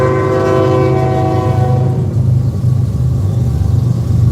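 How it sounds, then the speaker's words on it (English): A train rolls past at close range with a steady, loud low rumble throughout, and a sustained horn tone sounds in the first half before fading into the continuing wheel and engine noise. "And we got another train."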